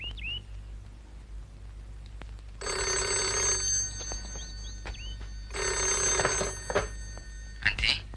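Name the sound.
telephone ringing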